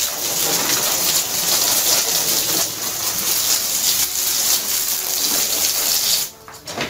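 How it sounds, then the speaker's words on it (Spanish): Water poured onto a freshly plastered laundry-room wall, a steady broadband splashing wash that stays loud and continuous for about six seconds before tapering off abruptly near the end. "Ahorita vamos a echarle agüita."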